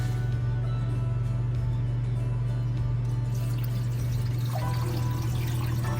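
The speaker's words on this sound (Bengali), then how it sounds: "আস্তে করে পানিটা ঢেলে দিলে তাহলে রাইসটা আর পড়ে না" Water poured slowly onto raw rice grains in a pot for cooking, a steady soft liquid stream beneath a constant low electrical hum, with no talking.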